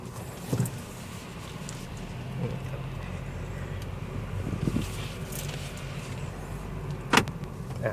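A 2014 Honda Jazz GK SV automatic pulls away from inside the cabin: a low, steady engine and road rumble with soft interior clicks and thumps, and one sharper knock near the end.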